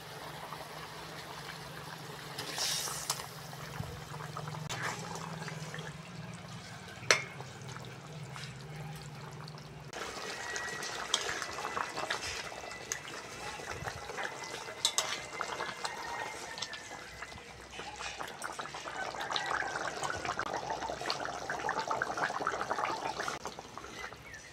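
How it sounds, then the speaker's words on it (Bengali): Rui fish curry gravy bubbling in a pot with fried potatoes added, a soft continuous simmering hiss with light stirring and clinks, low hum early on, fairly faint throughout. "ঝোল ভালোভাবে ফুটে গেছে,"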